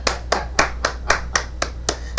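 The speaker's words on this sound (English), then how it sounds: "Give an applause." Podcast hosts clap their hands in a slow, steady rhythm of about nine sharp, close claps, each a crisp isolated slap with short gaps between, no talking over them.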